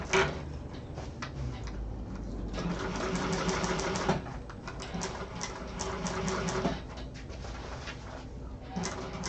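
A sewing machine bastes a fabric seam with a 1/8-inch allowance, running steadily with a fast ticking stitch rhythm close by, with brief pauses and a faint background hum.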